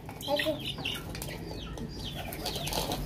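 Chickens clucking and fluttering while being fed rice outdoors, with several short overlapping clucks and wing flaps close by over a noisy background.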